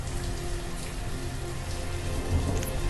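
Steady rain falling in the village-building game Banished, a dense continuous patter with faint low rumbles beneath, no talking.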